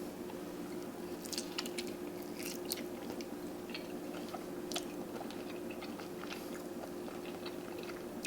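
Close, wet biting and chewing of juicy indoor-cooked ribs, soft squishy crunches scattered over a steady background hum.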